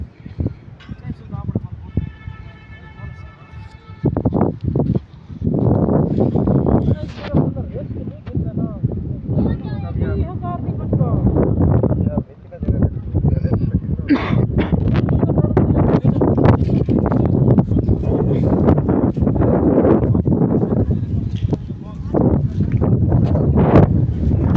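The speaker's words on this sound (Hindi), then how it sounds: "पहले तो नहीं इतनी तेज़ हवा थी" Strong gusting wind after rain roars across an outdoor microphone in a long, steady rush, quieter at first and then heavy and continuous, while someone talks over it in places.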